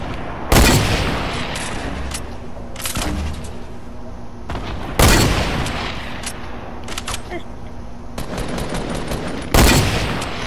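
Gunfire in Fortnite Battle Royale: four loud, sharp bursts of shots spaced a few seconds apart, with lighter in-game noise and faint voices in between.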